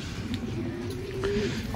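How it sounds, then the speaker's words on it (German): Soft pigeon cooing rises and falls over a low, steady background hum at a zoo enclosure with pigeons and chickens, fairly close but not loud. "Tauben, Hühner."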